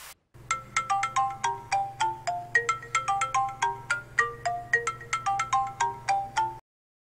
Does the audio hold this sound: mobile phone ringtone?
yes